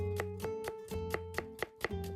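A knife chops an onion in Café Stella with quick, evenly spaced strikes, about four per second, over steady background music.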